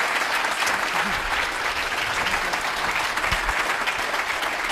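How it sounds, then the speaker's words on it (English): An evening audience at a fireside chat with Mayor Hazel McCallion breaks into sustained applause, a thick, even roar of many hands clapping at steady volume throughout. "Let's give a little round of applause"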